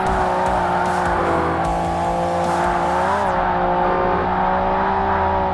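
A Pagani Zonda in the 2005 Forza Motorsport video game races through corners, its engine droning loudly and steadily with small pitch shifts, and tires squealing now and then.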